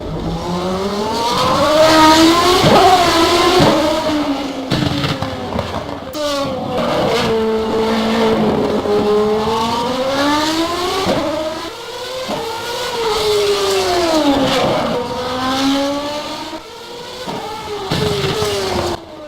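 A high-pitched Ford Cosworth engine in a McLaren MP4-8 Formula 1 car in the rFactor 2 racing game screams continuously, its pitch sweeping up and down through repeated revs and gear changes, loud and close.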